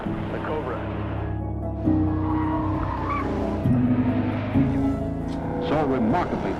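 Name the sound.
Shelby Cobra sports car driving fast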